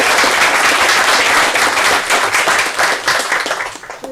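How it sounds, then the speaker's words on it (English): An audience applauding graduating seniors of a trades pathway program in a school setting, dense continuous clapping that stays loud, then thins slightly near the end. "I want to give a round of applause to those"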